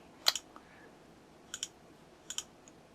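A computer mouse gives three quick double clicks, each pair crisp and close, spaced about a second apart, with a faint key tap while the Ctrl key is held, in an otherwise quiet room.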